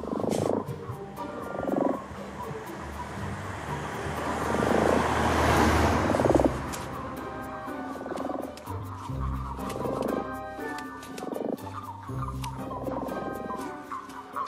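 Common toads croak near a pond, a chorus of low, repeated purring calls overlapping at close range over a rustling background, no voices.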